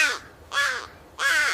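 A crow gives three loud, harsh caws in a steady rhythm, each about a third of a second long, close and alone.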